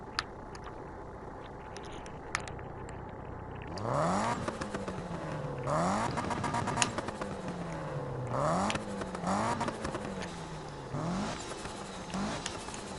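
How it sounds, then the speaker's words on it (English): Engine of a car in Need for Speed (2015) revving repeatedly in bursts, with rising and falling whines and a whirring turbo flutter between revs, close and fairly loud over a steady background hum. "I'm doing this to hear the fucking turbo"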